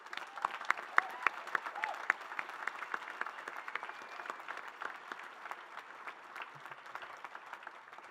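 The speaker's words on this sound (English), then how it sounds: "let's give them applause like we've never given anyone before" Audience at a 2026 commencement ceremony applauds loudly and steadily, dense clapping with a few sharper claps standing out before it thins slightly toward the end.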